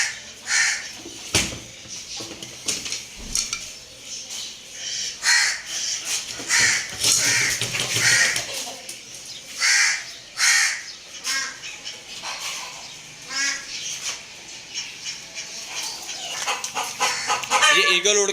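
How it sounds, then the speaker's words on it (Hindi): Chickens squawking in alarm at an eagle near a cage, repeated loud bursts of clucking and harsh calls coming in uneven clusters, close by, with short quieter gaps between outbursts. "और मुर्गियों ने भी शोर मचा दिया ईगल को देख के"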